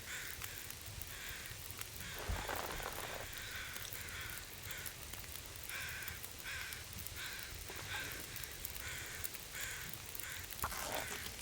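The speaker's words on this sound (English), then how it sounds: "I don't see a bear, but that sounds like bear crows." Crows near a bear in The Long Dark caw repeatedly in loose bursts, fairly faint and distant over a soft windy backdrop, with no voices.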